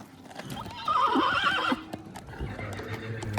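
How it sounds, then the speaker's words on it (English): Horse neighing loudly at a horse auction in Colorado, one long whinny rising from soft hoof clip-clops and stable noise, with hooves and shuffling continuing after. "a lot of the horses were hanging out in the warm-up arena"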